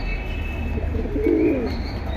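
Military pigeons at a pigeon market coo softly, one low rolling coo rising briefly over a steady background hum of the market.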